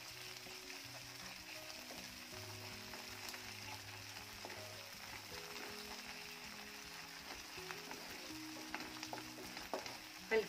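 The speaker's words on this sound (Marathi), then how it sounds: "पेस्ट देखील छान परतून घ्यायची आहे।" Half a spoon of ginger garlic paste sautéing in a pan of oil for bhendi bhaji, a faint, steady low sizzle with light stirring taps throughout and a small clink at the end, no speech.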